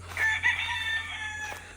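A rooster crows once nearby, a long strained call rising and trailing off, over a low steady hum.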